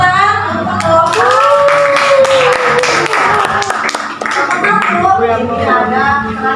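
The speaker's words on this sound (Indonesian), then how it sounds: "tepuk tangan untuk kelompok." A sociology class claps for a student group in a classroom, a burst of near, fairly loud hand claps mixed with a teacher's voice and other talk and noise throughout.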